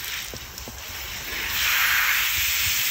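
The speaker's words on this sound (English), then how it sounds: "I'm gonna hose her down first and make her whole body wet before we go in with the shampoo." Pony Jet sprayer hosing down a large dog with water before shampooing, a steady broad hiss of spray that swells louder midway and keeps going without a break.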